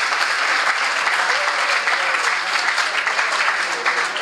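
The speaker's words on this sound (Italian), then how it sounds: "l'applauso alla professoressa d'inglese" An audience applauds an English teacher at a talk on languages in economics and law, loud and dense clapping held steadily from start to finish.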